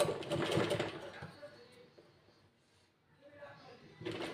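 A sewing machine stitches a folded blouse strip onto the reverse side with a half-inch seam margin, a moderate whirring burst at the start and again at the end, with a quiet pause between.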